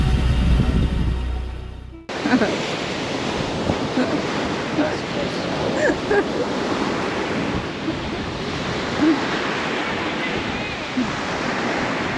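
Strong wind gusts against the microphone by the sea in Marmaris in November, with surf rolling behind it. The roar is loud and continuous after an abrupt start, with no talk.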